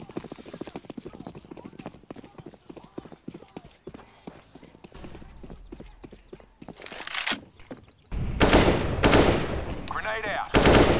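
Rapid assault rifle fire in the CS:GO shooter game on the de_cache map, loud bursts of shots closing out the stretch after busy footsteps and clicks, with a player talking over the early part.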